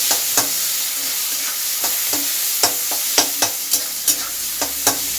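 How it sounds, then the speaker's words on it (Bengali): Bitter gourd fries in hot oil with a continuous loud sizzle, punctuated by sharp clacks of a spatula stirring against the pan in an uneven rhythm, close and without talk. "করলাটাকে সবার প্রথমে আমি ভেজে নিচ্ছি।"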